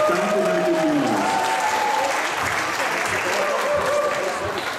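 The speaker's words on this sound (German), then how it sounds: "Einen großen Applaus für Lisa und Walter Hofer und den Clemens." A crowd at a rock'n'roll acrobatics awards ceremony and final applauds warmly and steadily, a dense clapping wash under a voice speaking over it throughout.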